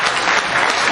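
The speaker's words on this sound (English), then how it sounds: "Y'all give a round of applause for that" Loud, dense audience applause on a podcast show, a brief burst of many hands clapping close up.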